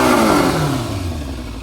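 A Yamaha Fazer 600 motorcycle engine with a pinched choke cable runs steadily and fairly loud, its pitch drifting slightly lower as it settles from higher revs, with a rough, clattering texture.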